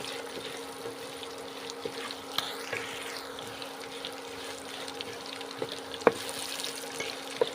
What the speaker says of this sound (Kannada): ಒಂದು 3 ಸೆಕೆಂಡು ಫ್ರೈ ಮಾಡ್ಕೊಂಬಿಟ್ಟು